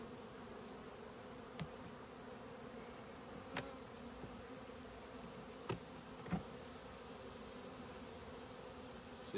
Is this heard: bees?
yes